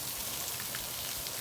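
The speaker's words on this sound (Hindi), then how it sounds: "तो ये देखें बारिश हो रही है अभी भी" Rain falls steadily outside a house yard after a storm, a dense even hiss with faint scattered drop taps, close and continuous with no talking.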